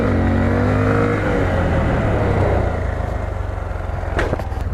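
Honda Grom motorcycle accelerating hard in first gear, its engine note climbing steadily in loud, close revs, then easing off near the end with a few brief clicks.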